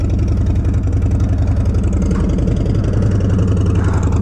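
Harley-Davidson Low Rider S motorcycle fitted with a TBR 2-into-1 exhaust, a loud, close, steady pulsing engine rumble throughout with no talking.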